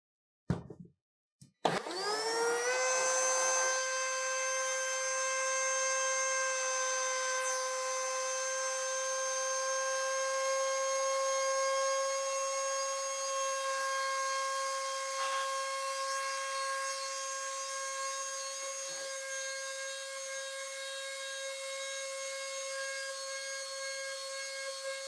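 A Milwaukee M12 rotary tool switched on and run up to high speed, a steady close whining hum with bright harmonics that holds unbroken for over twenty seconds after a few clicks at the start, with faint rattling from the vibrating tool.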